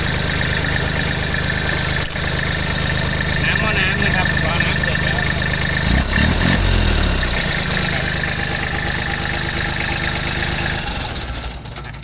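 A car engine idles steadily throughout, a low continuous rumble with a brief revving swell midway, then trailing off near the end.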